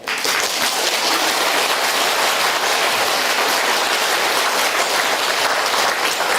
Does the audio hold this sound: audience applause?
yes